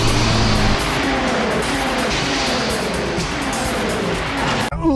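KITT replica car from Knight Rider driving hard with turbo boost, a loud continuous engine roar that rises and rushes steadily for several seconds before cutting off abruptly.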